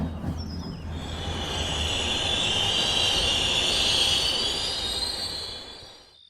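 A train pulls away from a station in a Bengali horror audio story, its wheels squealing high and loud over a steady rail rumble that swells and then eases, with no voices.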